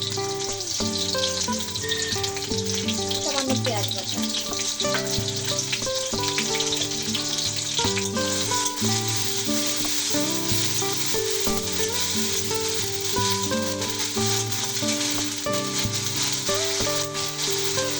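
Garlic paste and onion fry in a pan with a dense, continuous close sizzle and occasional stirring scrapes, while music plays in the background throughout.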